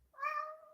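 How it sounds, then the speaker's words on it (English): A cat gives a single short meow, clear and close, rising and holding briefly before fading, in a quiet room. "he does not understand why you insist on meowing so much"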